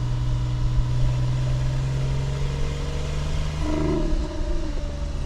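Steady engine drone inside a 2002 Porsche 996 C4S cruising at about 3000 RPM, with a constant low hum and a slight pitch change near the end, no talking.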